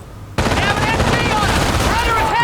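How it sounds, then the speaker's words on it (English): Machine gun fire rattles in a Company of Heroes battle, bursting in loud and close after a brief quiet start and continuing in rapid overlapping volleys with whining ricochets, voices shouting beneath. "Taking MG fire!"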